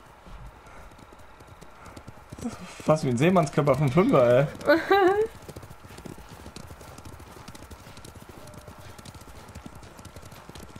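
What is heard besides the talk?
horse hooves clip-clop, video game Ghost of Tsushima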